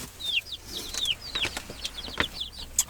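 Chickens and young chicks on a small homestead make soft, repeated clucks and high chirps in quick bursts, fairly near and moderately quiet, with no talking.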